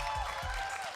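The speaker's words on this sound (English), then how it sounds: "Give a big round of applause for Ezekiel." An esports crowd at a Mobile Legends tournament final applauds, a brief, fairly faint burst of clapping over a continuous hall ambience.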